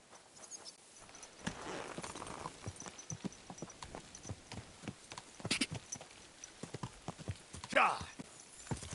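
Horse hooves clip-clop steadily on the ground in the medieval game Kingdom Come: Deliverance II, a close, rhythmic patter of footfalls running throughout, with voices talking over it and a brief louder burst near the end.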